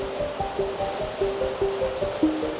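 Water flows softly along an irrigation channel, a steady gentle wash with birds chirping lightly over it.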